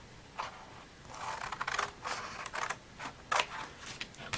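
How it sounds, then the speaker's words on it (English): Scissors snip the corners of a Stampin' Up paper explosion box, a series of short crisp cuts and scrapes, close and fairly quiet, with no talking over them. "Now what I'm going to do is to take my pair of scissors"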